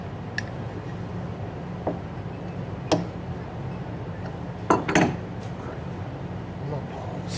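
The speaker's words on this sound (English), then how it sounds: "To put my Allen wrench away." An Allen wrench is put away in a workshop during bearing work on a DeWalt AMF radial arm saw. A few sparse, faint metallic clicks and clinks sound over a steady low hum.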